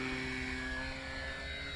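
A radio-controlled Cermark Fantasy Flyer model plane flies overhead, its engine giving a steady, continuous buzzing drone that holds level throughout the short stretch with no talk.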